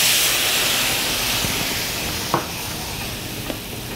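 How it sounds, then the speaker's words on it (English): Garlic in a pan deglazed with brandy, giving a steady bright hissing sizzle throughout with a couple of faint clinks, in a cooking show kitchen. "We're gonna deglaze with some brandy."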